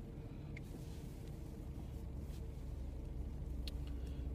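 Cars rolling into a busy flea market parking lot in Columbus, a steady low engine rumble of several vehicles nearby with no talk.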